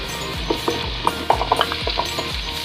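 Potatoes and carrots for chicken afritada being stirred in a frying pan: repeated scraping and clinking strokes of a utensil, close and fairly loud, layered over a soft continuous sizzle of frying oil.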